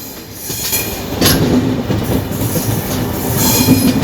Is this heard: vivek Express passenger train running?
yes